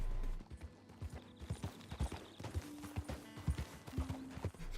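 Horse hooves clip-clopping in the Red Dead Redemption 2 video game, a quiet, uneven run of hoof thuds at a walking pace with faint background game sounds and no voices.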